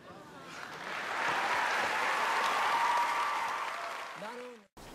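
Crowd applause from an audience in an Othello film scene, broad dense clapping swelling and holding steady for several seconds before stopping abruptly, with a short voice sound near the end.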